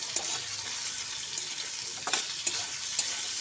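Ginger-garlic paste, ground coriander and Kashmiri chili powder fry with potatoes for a spinach and potato curry. The sizzle is steady and close, and a few sharp clicks of stirring break through it.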